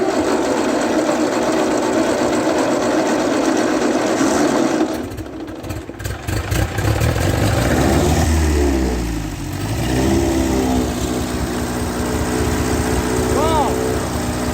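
A 1939 Ford 9N tractor engine cranking, catching and running, a loud close rough chugging that dips and surges as throttle is added, with someone talking over the racket.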